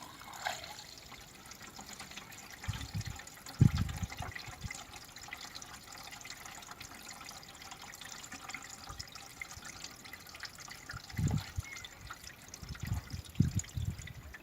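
Windshield washer fluid trickles through a funnel into a car's reservoir, a faint, soft pour broken by a few brief louder glugs and splashes, with no talking.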